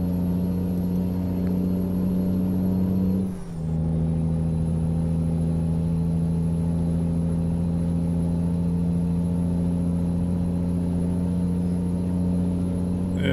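A truck engine in Euro Truck Simulator 2 drones at a steady low rumble as it slowly gathers speed, with a brief dip from a gear change before the heavy hum carries on.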